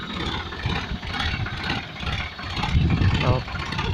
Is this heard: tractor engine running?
yes